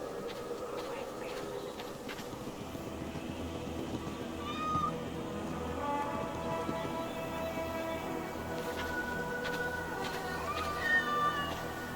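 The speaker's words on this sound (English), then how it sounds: "My cats! Come here, my darlings." Cats meow faintly in Assassin's Creed Valhalla, a few brief high calls scattered over a dense, constant background of game ambience and music.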